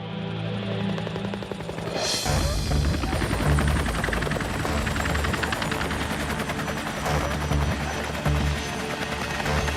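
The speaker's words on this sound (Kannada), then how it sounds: "ಅಲ್ಲಿ ನೋಡಿ ಹೆಲಿಕಾಪ್ಟರ್." A cartoon helicopter roars in loudly with a dense, steady rotor chop that holds for the full stretch, joined by a rising whoosh and rapid mechanical rattling.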